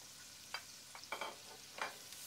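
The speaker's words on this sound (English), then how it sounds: "And fry them for 2 minutes." Diced white onions frying in a pot give a faint, soft sizzle, broken by a few light stirring clicks and scrapes, with no voices.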